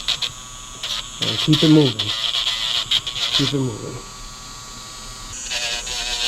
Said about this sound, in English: Keep the grinder moving, okay?